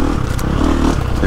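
A 2022 Gas Gas MC350 dirt bike rides a woods loop, its engine a loud, close, rough roar with rattling clatter from the trail.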